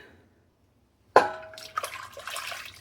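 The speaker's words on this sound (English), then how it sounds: "Stir that up, and now pour that in to the sauce" Cornstarch-and-water slurry poured into a Madeira cream sauce: silence, then a sudden splash and soft liquid glugging and drips for about a second and a half, close and moderately loud.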